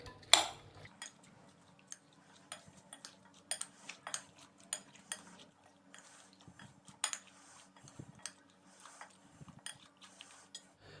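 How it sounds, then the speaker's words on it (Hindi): Eggs being whisked into a potato fries batter in a bowl, heard as light, irregular clinks and taps of utensil against the bowl, soft and fairly close, with no talking. "अंडे शामिल करने के बाद हम इसको अच्छे से मिक्स कर देंगे।"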